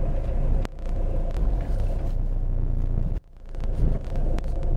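A car pulling away from a stop, heard from inside as a steady engine and road rumble with wind buffeting, a brief dip in the middle, then the drone building again.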